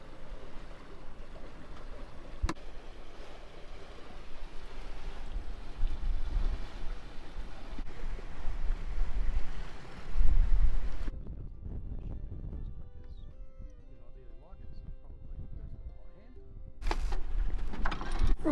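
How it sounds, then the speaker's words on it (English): Gusty, shifting wind rushes past a sailboat under way on wind vane steering, a steady broad roar for most of the stretch that drops away briefly near the end before gusting back in. "of course gusty variable wind. It's moving around a bit."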